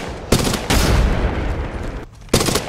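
Heavy gunfire in the Apex Legends Mobile battle royale game, loud dense bursts of automatic shots that cut out briefly and then resume in another sharp volley.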